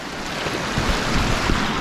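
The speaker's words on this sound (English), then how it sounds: "We got this waterfall right here." A small waterfall on a river rushes steadily with dense, broad white-noise roar, loud and close, with some wind buffeting and no speech.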